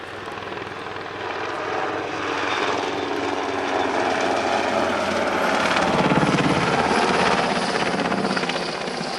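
German Air Force NH90 helicopter performing a tactical flying display at an airshow, its loud, steady rotor and turbine roar filling the air, swelling louder partway through as it passes nearer.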